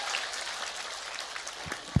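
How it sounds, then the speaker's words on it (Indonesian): An audience at a lighthearted Islamic sermon on Nisfu Sya'ban night gives a short burst of fairly faint, scattered applause, ending with one sharper thump. "Tepuk tangan disit kanggo jenengan"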